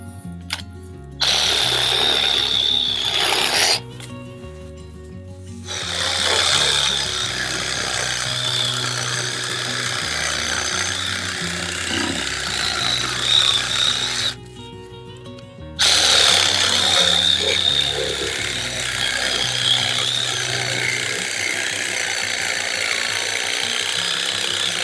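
A Parkside 12V cordless reciprocating garden saw (PAAS 12 B2) buzzes through material in long runs, its motor pitch shifting as it cuts, with two brief pauses where the tool stops.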